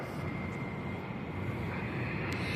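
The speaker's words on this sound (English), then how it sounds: "We have 3 planes coming in." Airplanes flying near Tampa International Airport, a broad, steady roar of jet engines rumbling overhead at moderate distance, continuous and fairly loud with no talk.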